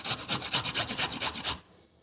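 A carrot is rubbed quickly against a grater in about a dozen rhythmic rasping strokes, close and crisp, then stops abruptly.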